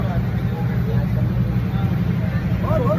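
A boat carries a group on a trip to Manori, its steady engine rumble and water noise loud and continuous, with voices faintly audible under the drone.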